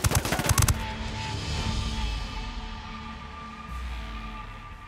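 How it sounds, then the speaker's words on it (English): A short burst of automatic gunfire in Ghost Recon Wildlands, loud and close for under a second, then fading into a lingering ambient rumble and hum. "I'm opening fire on these shitheads."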